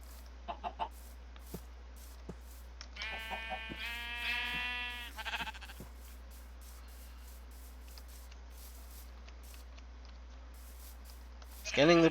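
Sheep in Minecraft bleat in a short harmonic burst a few seconds in, standing out clearly amid sparse clicks and light game noise, with a louder thump near the end.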